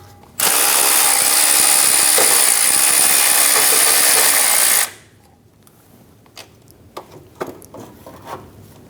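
Power tool spinning off a 13mm nut on a Chevrolet Express 2500 van, one loud steady whirring run of about four seconds, then a few faint clicks and clunks of handling.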